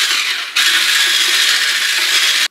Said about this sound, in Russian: Все это взбиваю миксером.